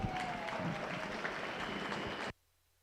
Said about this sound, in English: Let's give our exhibitors a big round of applause out here today.